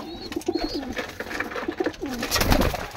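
Pigeons coo repeatedly in soft, throaty, rolling calls, several birds close by with a steady rhythm and faint background noise.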